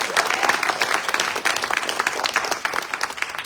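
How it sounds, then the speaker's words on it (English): Dense, steady applause from an audience at a local chamber candidates forum, filling the whole moment with continuous clapping and no talk over it. "So give them another round of applause."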